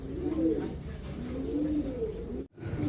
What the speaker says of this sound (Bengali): ড্যানিশ কবুতর, রেড কালার ড্যানিশ।